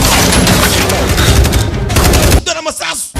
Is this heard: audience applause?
no